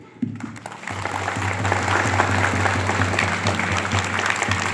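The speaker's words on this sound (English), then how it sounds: "Let us give him with a round of applause as sign of welcome and appreciation." Applause from a crowd at a secondary school's closing ceremony for its annual sports week. It starts abruptly and swells into loud, continuous clapping over a steady low hum.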